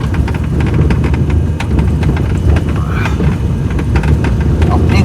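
A Maruti 800 car's petrol engine runs on a badly broken rough road, giving a steady loud rumble with knocks and rattles from the bumpy surface throughout.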